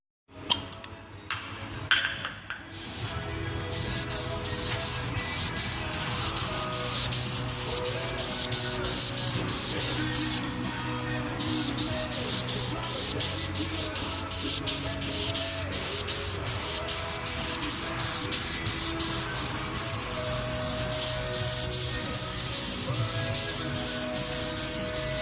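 Spray painting a car's coil spring, a continuous close hiss of aerosol spray with short bursts at the start and a brief pause midway, no talk.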